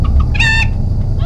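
A rooster crows once in the space video game Voyage Journey to the Moon, a brief, close, clear call rising over a low steady hum.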